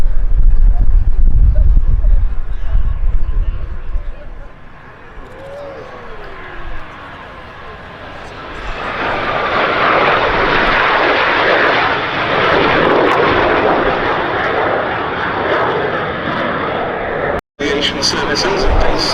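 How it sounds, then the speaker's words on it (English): A pair of BAC Strikemaster jets at the Duxford summer air show sweep toward the crowd for a break, engine roar swelling from a distant whine into a loud, sustained rushing blast, with a commentator talking over the start. "Now in come the 2 aircraft towards us for a break."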